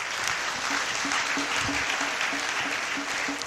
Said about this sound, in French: On va applaudir Dieu pour ça.